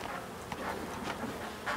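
A swarm of honeybees buzzes steadily around a hive, a close, dense drone of many wings with a few individual bees passing nearer.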